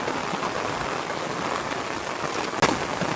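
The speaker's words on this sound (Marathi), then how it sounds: "आणि पाऊस पण काय जोरात लागू चालू झालेलो असा." Steady heavy rain pours down with a dense, even hiss, broken once by a brief sharp knock.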